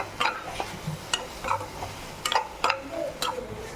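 Prawns sautéing in oil for prawn sukka, with soft scraping stir strokes against the pan every half second or so over a faint steady sizzle, close and fairly quiet, no talking.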